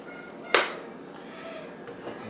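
Chocolate chips tipped into a mixing bowl of pecan pie filling make one quick, bright clatter against the bowl, then fade to quiet room tone.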